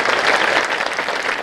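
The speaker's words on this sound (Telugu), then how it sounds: "ఇంతేనా చప్పట్లు కొట్టేది?" A temple audience at a religious discourse claps loudly and steadily, a dense and continuous sound of many hands with no speech over it.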